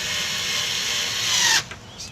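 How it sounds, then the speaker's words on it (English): A power drill runs steadily while driving screws for a hanging outdoor temperature sensor, a continuous whirring that builds slightly before cutting off abruptly, with a short rattle afterward. "So what I'm going to do is very simply run the screws in"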